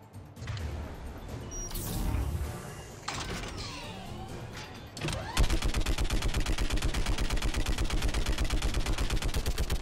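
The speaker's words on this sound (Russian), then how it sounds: "Отцепись, дай за пулемет." Rapid, evenly spaced machine gun fire in Mass Effect 3 takes over halfway through, loud and relentless, after a stretch of mechanical whirring, sweeps and clanks.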